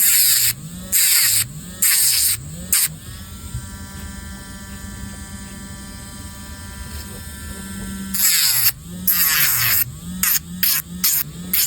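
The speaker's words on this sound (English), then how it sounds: "this is just a drill that I got off of Amazon. And what you're going to do is you're going to drill them out." A small electric nail drill buffing false nails buzzes steadily at high pitch, revving up and down in short repeated bursts, with a longer continuous run in the middle.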